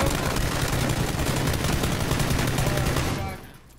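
Sustained automatic gunfire in the battle royale game PUBG, a dense, loud rapid burst of shots that continues for several seconds before cutting off abruptly into quiet.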